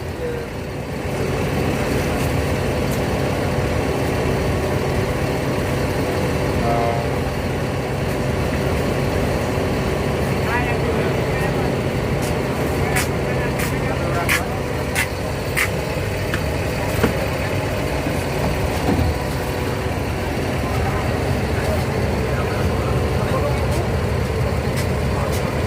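Steady low rumble of an idling LPG-powered bus engine from up close, continuous throughout with faint clatter and scattered clicks, and a voice speaking over it.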